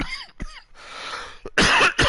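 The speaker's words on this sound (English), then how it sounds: "Sorry, guys. Dry cough" A person gives several harsh dry coughs up close and loud, the bursts bunching together toward the end.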